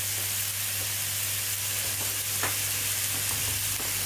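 Green beans fry in a pan with a steady, close sizzle while a utensil stirs them, giving a few soft scraping clicks over the constant hiss; no one speaks.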